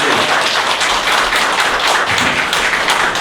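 A church congregation claps steadily together in thanks to God, filling the space with dense, loud, continuous applause throughout.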